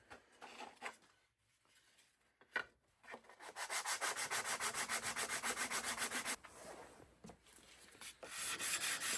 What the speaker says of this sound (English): I start to sand through all the grits